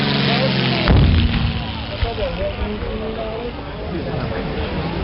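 A bomb dropped from an aircraft bursts during a battle reenactment: one loud, sharp blast about a second in, over an engine drone, then a rumbling, crackling decay with a voice talking.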